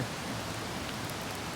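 Steady rain patters on a tent during a late-September backpacking trip in the Dolly Sods Wilderness, a soft, even hiss that runs unbroken and fairly quiet throughout, with no voices.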